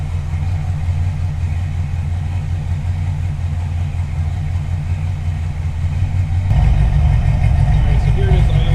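A 360 V8 swapped into an AMC Hornet idles at roughly 750 RPM, a steady deep rumbling burble close by that grows louder and rougher toward the end, with a voice talking over it.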